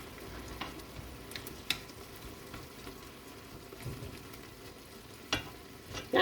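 Pork ribs frying in a pan, a soft steady sizzle with occasional scraping clicks as the pieces are turned, quiet and close without any talk.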